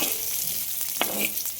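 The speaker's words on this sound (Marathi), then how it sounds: "ह्या सगळ्यांना मी छान लालसर भाजून घेईल." Coriander seeds and whole spices dry-roast in a pan for a chicken curry, a soft steady sizzle with a couple of light scraping stirs, close and alone.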